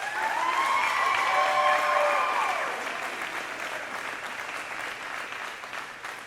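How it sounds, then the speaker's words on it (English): Applause from the audience at a high school marching band fall concert, a broad wash of clapping that fades gradually, with a few tonal instrument or voice streaks near the start. "I definitely give him a huge round of applause"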